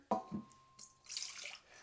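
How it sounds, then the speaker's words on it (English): Warm water poured into a bowl for bagel dough, a short faint trickle and splash lasting under two seconds in a quiet kitchen. "we're going to start off with some warm water"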